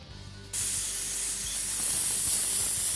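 Airbrush spraying paint to lay down a soft-edged, smoky flame design on a car, a sudden loud continuous hiss that starts abruptly after a quiet moment and holds steady close by.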